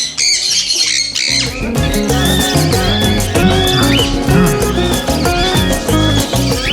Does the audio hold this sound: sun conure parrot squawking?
yes